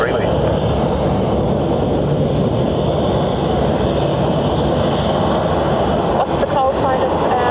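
A Ryanair airliner lands on runway 28 left at Dublin airport, a loud, sustained roar of jet engines with a broad rushing texture, while people talk over it.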